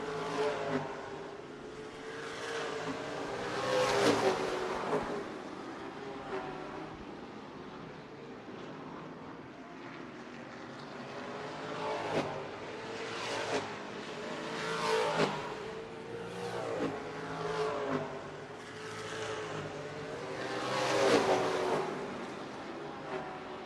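Race cars circle Redwood Acres Raceway during the Rhododendron 100, engines swelling and fading as they pass again and again, loud and fairly close with a steady roar between passes.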